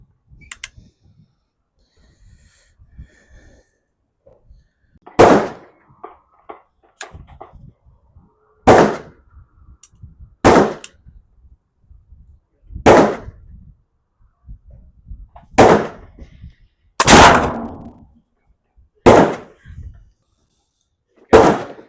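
A flintlock rifle fires at an outdoor range, giving roughly nine sharp, loud cracks spaced a few seconds apart, with quiet stretches and faint movement between them.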